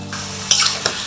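Potatoes and drumstick pods frying in a pan while being stirred, a brief close sizzle with a couple of sharp scraping stirs.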